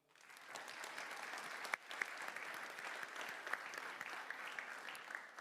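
A crowd at a State of the City address applauds steadily, a dense patter of many hands clapping at moderate volume throughout, with a couple of sharper claps standing out.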